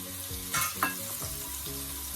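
Scallions and hot pepper fry in a hot pan with a close, steady sizzle, broken by a couple of brief stirring scrapes.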